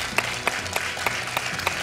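A studio audience on the French quiz show Questions pour un Champion claps in a steady, even rhythm, the sharp claps evenly spaced and moderately loud with no voices over them.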